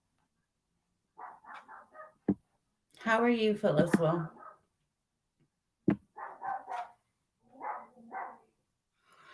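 A dog barks in short bursts in the background while someone talks over it and greets someone during a livestream.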